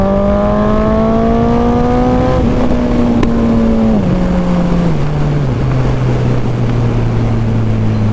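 A Suzuki Hayabusa motorcycle engine revs loud and close, its pitch climbing steadily before dropping back in stepped falls to a lower idle, with no talk over it.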